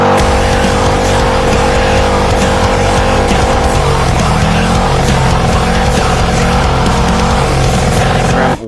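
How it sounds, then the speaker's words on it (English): Car burnout on carbon fiber wheels, a loud steady roar of engine and squealing, shredding tires that fills the whole stretch without letup and cuts off abruptly at the end. "You guys saw the burnout out there"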